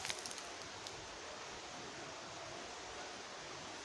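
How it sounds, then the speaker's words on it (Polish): A steady, even rush of river water flowing in Żuchowo, Poland, fills the background in the dark, faint but continuous, with a few small clicks at the start. "słychać tam w tle, mam nadzieję. Odgłos, szum wody."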